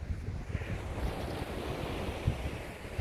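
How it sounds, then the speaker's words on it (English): Ocean waves breaking on the shore, a continuous rushing wash of surf with gusty wind buffeting the microphone, steady and moderately loud with no voices. "I really need to move away from the waves because they're still pretty noisy"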